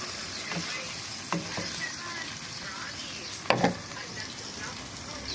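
Beef liver sizzles steadily in a hot pan while being stirred, a continuous frying hiss broken by a few close scrapes and clacks of the utensil against the pan.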